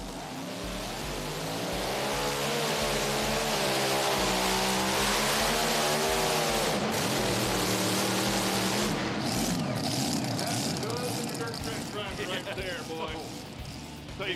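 A Hemi-engined mini rod pulling vehicle roars loudly at a tractor pulling event in Tomah, Wisconsin, with a sustained high-revving engine scream that rises and wavers across the run. A commentator talks over it.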